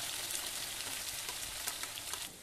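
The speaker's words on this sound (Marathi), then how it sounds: "थोडा वेळ चरबी परतली आणि त्यामध्येच आपल्याला हे वाटण घालून घ्यायचं आहे." Mutton fat and ground masala paste fry in a pan with a steady, dense sizzle and crackle that stays close and loud throughout, with no voices.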